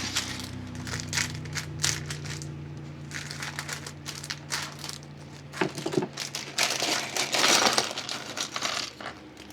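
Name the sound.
plastic Lego parts bag being cut open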